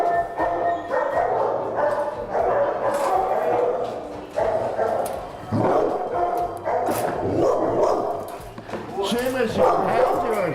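Dogs at an animal shelter bark and yip in short bursts over several seconds, with some whimpering mixed in, while a person keeps talking close by over the noise.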